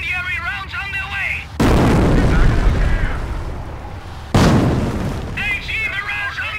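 Incendiary artillery rounds bursting in the war game Operation Market Garden: two sudden loud booms, each rolling into a long roaring rumble, with voices faintly heard between them.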